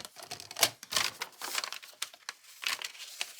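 Paper for a waterfall journal being cut, with crisp crackling snips and rustles close by, irregular bursts over a few seconds and no talking.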